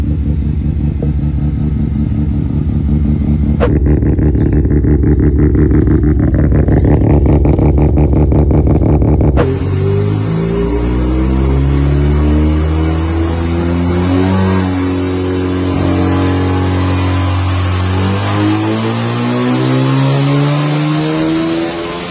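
A Mazda RX-7 FC with a 13B turbo rotary engine, Garrett turbo, front-mount intercooler and Microtech ECU making about 375 horsepower runs loud and close, a choppy idle giving way to sweeping revs and rising, falling engine tones.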